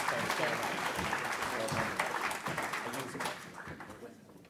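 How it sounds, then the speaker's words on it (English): Audience applause fills the room as guests walk onto the stage at a Muscular Dystrophy UK talk: steady, dense clapping from a crowd that stays loud, then gradually thins and fades near the end. "give them a big round of applause as they come up."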